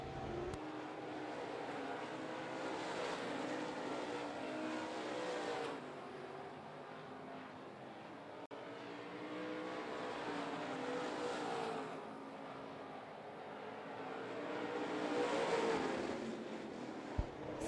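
Super late model race cars roar around Smoky Mountain Speedway, engines droning loud and continuous as cars sweep past, swelling and fading in waves across the track.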